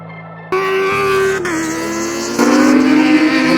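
Kawasaki ZX10R race motorcycle in qualifying at Red Star Raceway, loud close engine revving through gear changes, pitch stepping up and down with a sharper rise near the end, no talk.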